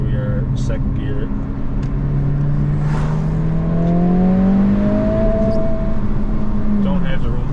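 A 2022 Honda Civic Si fitted with a Ktuner pulls hard through second gear, its engine note climbing steadily as it accelerates, loud and close, with a voice speaking over the noise.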